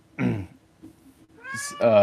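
A geriatric house cat gives a couple of chatty meows at close range, separated by quiet pauses, with the second call ending in a rising, drawn-out tone.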